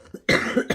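A woman with a nasty cold coughs: one small hack, then a longer, harsh, rough cough and a final burst, close and loud.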